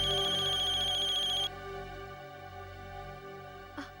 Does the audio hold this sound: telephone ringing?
yes